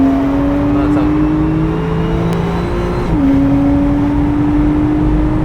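Onboard a GT3 car lapping a track, the engine holds a loud constant drone with a gear change midway, and a driver talks over it.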